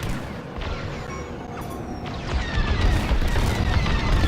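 A TIE bomber taking hits while attacking a Corvette in the Star Wars Squadrons space combat game: a dense, continuous roar of engine noise and impacts that swells louder partway through, with faint whooshes and crackles layered on top.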